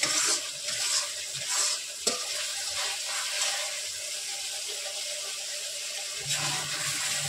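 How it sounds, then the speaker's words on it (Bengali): Masala spice paste sautéing in a pan for a Bengali echor chingri dish, a steady close sizzle with occasional stirring scrapes and one sharp clink, no talking. "মশলাটা অনেকটা কষানো হয়ে গেছে।"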